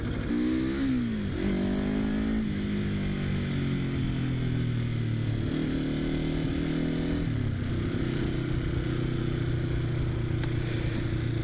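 A Honda CL360 motorcycle ridden along, its engine loud and close throughout, with revs climbing, dropping at gear changes and settling into a steady drone.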